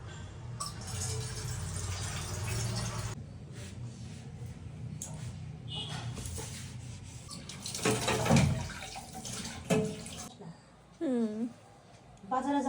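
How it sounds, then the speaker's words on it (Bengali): Dishes washed by hand in cold water, a running tap splashing over utensils with scrubbing and clatter, while someone talks over it. "বাসন রয়েছে, এগুলো এখন একটু মেজে নেবো।"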